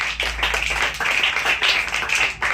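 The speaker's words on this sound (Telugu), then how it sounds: "గట్టిగా చప్పట్లు కొడదామా ఒకసారి" A church congregation at a Christmas service claps loudly together, a dense, steady run of many hands close by, lasting a couple of seconds with no talking over it.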